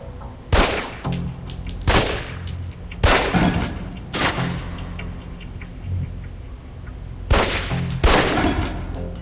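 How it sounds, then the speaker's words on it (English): Pistol shots at a target in Alpha Protocol ring out as six loud, sharp cracks, four in quick succession with about a second between them, then a pause before two more, over a low background hum. "Equip the pistol, then aim down range and take some shots at the target"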